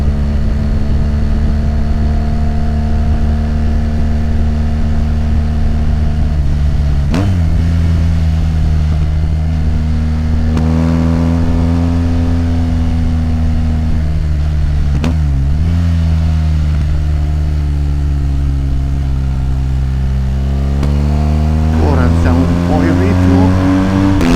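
A BMW R 1250 GS Adventure boxer motorcycle with an Akrapovic exhaust drones steadily with strong low harmonics, rising and dipping in pitch as revs climb to about 4500 rpm and gears shift, loud and continuous throughout.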